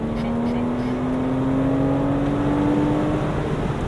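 A Porsche sports car engine revs up as it accelerates, its droning pitch climbing steadily over a few seconds, loud and close.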